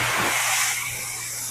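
A pressurized water spray hisses across a car body during detailing, a bright broadband spray that is loudest at first and eases slightly, with a low steady hum underneath.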